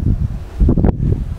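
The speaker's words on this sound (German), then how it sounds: "So, jetzt ist ein bisschen windig." Wind gusts outside a small hut on South Africa's Wild Coast: a close, fairly loud low rumble and buffeting against the microphone with rustling, in uneven surges and no speech.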